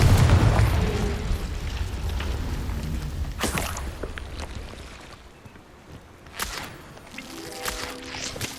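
Confringo blasting spell explosions in Hogwarts Legacy: a loud booming burst opens, followed by further sharp cracking blasts and rumbling bursts at intervals over a continuous game soundscape.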